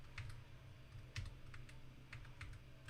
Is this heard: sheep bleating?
no